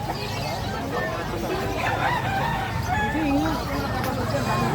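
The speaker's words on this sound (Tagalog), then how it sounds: "May mga manok." Chickens cluck and a rooster crows nearby amid a low, steady background of people and traffic.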